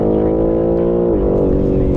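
A BMW M3 Competition G80 engine accelerates hard on road or circuit, a loud, steady, rising multi-harmonic growl that holds through with a brief dip and climb in pitch as it keeps pulling.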